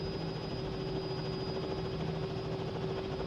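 A helicopter hovers in a flight simulator game such as MSFS or X-Plane, a constant droning rotor and engine hum with a steady whine on top, unchanging and even throughout, with no talk.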